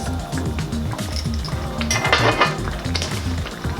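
Pasta is stirred in a pot, a close, continuous rhythm of scraping and light clinks against the pot over a low rumbling background.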